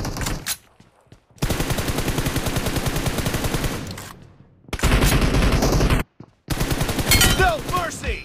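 M416 assault rifle fire in a video game: sustained full-auto bursts at loud, close range, separated by short gaps, with faint voices and a few brief lighter sounds between bursts.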